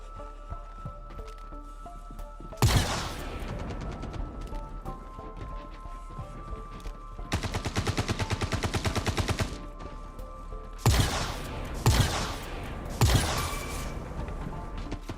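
Automatic weapon fire in the first-person shooter Star Citizen, with sharp bursts at intervals and one long rapid volley, over low steady background hum.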